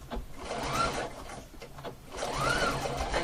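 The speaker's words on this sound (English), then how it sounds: "I'm going to keep on sewing until it gets to the end" A sewing machine stitching piping runs in two quick close bursts, its rapid mechanical whir rising and falling with a short pause between, quiet overall.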